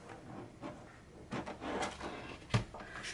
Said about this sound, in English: Let's go ahead and open the tin and take a look at these.